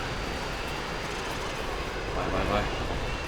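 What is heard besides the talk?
jet aircraft in video game Call of Duty: Modern Warfare 2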